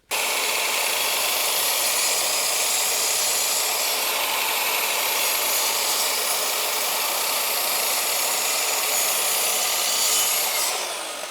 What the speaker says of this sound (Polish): Tniemy teraz drugą dechę.